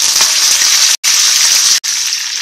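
Curry leaves crackling in hot oil for a tempering over dhokla, with mustard seeds and sesame in the pan; a loud, steady broadband sizzle broken by two brief silent gaps.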